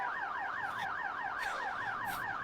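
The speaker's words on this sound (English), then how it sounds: "The sirens are so loud." Police sirens in the PS2 video game The Getaway wail in a steady rising and falling pattern, fairly loud and continuous, with a few short bursts of noise over them and no talking.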